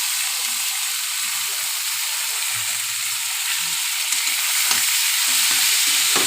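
Chicken and pointed gourd frying in a pan over a low flame, a loud, close, continuous hissing sizzle with faint stirring clatter, no talking.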